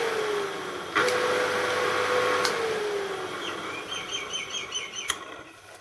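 The electric motor of a homemade Gingery milling machine runs clockwise, a steady whine that slowly drops in pitch, with sharp clicks and birds chirping nearby in the background.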